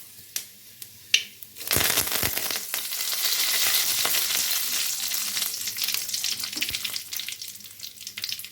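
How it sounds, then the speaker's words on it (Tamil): Dried red chillies and spices are tempered in hot oil for curd rice. A few sharp clicks lead into a loud, close, sustained sizzle and crackle that slowly settles. "தயிர் சாதம் வந்து தாளிச்சிக்கலாங்க."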